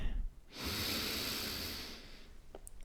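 A long, deep breath drawn in during a relaxation sophrology exercise, a soft airy hiss that swells and holds steadily for well over a second, then fades; close and alone, with no talking.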